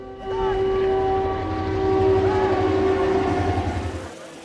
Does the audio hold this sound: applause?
no